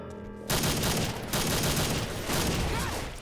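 Dense, continuous gunfire in the zombie shooter Left 4 Dead 2 on a custom map, starting abruptly after a quiet moment and staying loud and sustained as a fusillade of overlapping shots.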